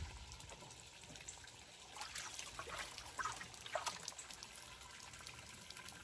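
Water trickles and gushes out of a DIY four-stage koi pond filter during a backwash, a soft, fairly distant flow with a few splashy surges.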